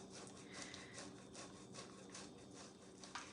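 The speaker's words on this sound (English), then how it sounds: "we are going to take this grater and we are going to grate our tofu" Tofu is grated on a grater in continuous close-up rasping strokes that repeat at an even rhythm, with no talk over them.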